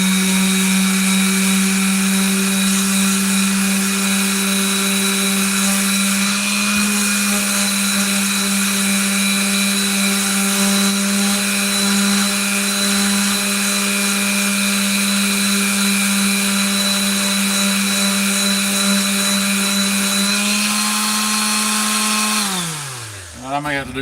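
A power tool roughs up jute micarta knife scales so epoxy will bond. A loud, steady motor whine holds a constant pitch for over twenty seconds, then winds down and falls in pitch at the end.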